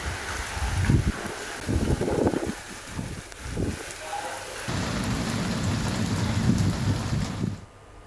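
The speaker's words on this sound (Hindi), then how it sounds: "गरज चमक के साथ मूसलाधार बारिश" Heavy monsoon downpour with rumbling thunder, rolling low booms over a steady dense rain wash that swells louder before cutting off.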